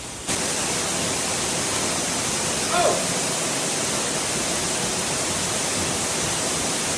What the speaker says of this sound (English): you tee off from inside this cave through a waterfall